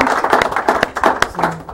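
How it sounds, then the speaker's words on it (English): A small studio audience gives a brief round of applause, a quick patter of several hands clapping close by, lasting under two seconds. "It's a round of applause."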